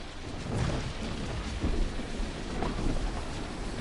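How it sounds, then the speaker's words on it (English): A thunderstorm during a Fortnite end-of-season live event rumbles with heavy rain and rolling thunder, a dense steady roar throughout with no talk. "Oh no, but the storm's coming in."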